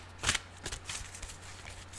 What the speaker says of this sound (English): While I shuffle and wait here for the cards to pop out